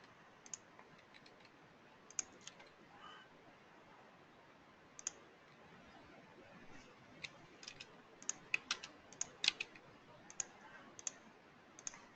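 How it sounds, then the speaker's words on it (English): Keys click on a computer keyboard while budget figures are entered, sparse single taps at first, then quicker clusters of light clicks, quiet and close over a soft room hiss. "So let me just type in a few more here."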